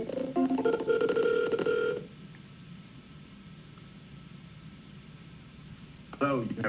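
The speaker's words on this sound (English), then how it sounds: "Let me know if you guys hear the dials." Telephone keypad dialing tones beep in a rapid run of distinct tones during a sales cold call, loud and clear for two seconds, followed by quiet hiss before a voice starts speaking at the end.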